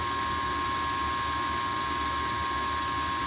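An old Rheem gas furnace in poor condition runs just after ignition in a Chicago home, a steady mechanical hum and drone with constant tonal whine and no pauses.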